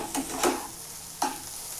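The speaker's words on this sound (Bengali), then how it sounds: "ডিমটা দিয়ে ভালোভাবে নাড়াচাড়া করছি।" Egg and pumpkin roast being stirred in a frying pan, a few scraping strokes of the spatula over a soft sizzle, close and brief.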